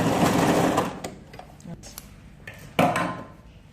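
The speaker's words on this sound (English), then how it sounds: "Then don't forget to back stitch, then sew." Sewing machine stitching a sleeve seam with a back stitch, a rapid mechanical whir in a burst at the start, then short bursts and clicks, and another quick run near the end.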